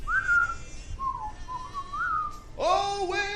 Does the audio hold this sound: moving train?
no